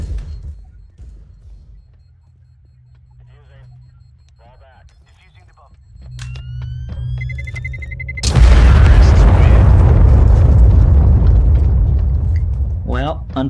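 A bomb explodes in Counter-Strike: Global Offensive: after quiet beeping and faint game noise, a sudden loud blast hits about eight seconds in and rumbles on heavily to the end, with talk beneath it.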